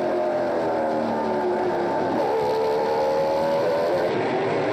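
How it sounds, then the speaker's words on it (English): A NASCAR Pinty's Series stock car, number 80, running at Flamboro with an odd-sounding motor: a steady, loud engine drone with shifting harmonic tones that rise and fall, continuous throughout and heard alone without talk. "have a listen to this motor"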